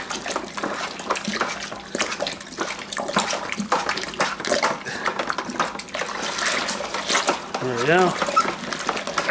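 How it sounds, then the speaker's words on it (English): Hot beer wort with extract being stirred in a brew pot for an orange shandy, a sloshing, swishing liquid churn with clinks, under a man's brief speech. "while this is still hot, I'm going to give this a good stir"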